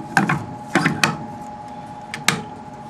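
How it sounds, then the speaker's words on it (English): A full tape reel set onto the left hub of a BOW Model 432 tape cleaner gives a handful of sharp, close mechanical clicks and clunks, spaced irregularly, with no one talking. "Place the full reel on the left side here."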